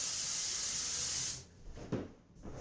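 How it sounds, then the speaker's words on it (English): Coconut oil spraying from an aerosol can onto a pan over a medium-high flame, a steady close hiss lasting just over a second that cuts off abruptly, followed by faint kitchen clatter. "I'm gonna use coconut oil in a can and just lube it up."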